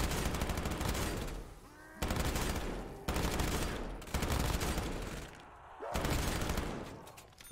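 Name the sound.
gunfire in Black Ops 3 zombies video game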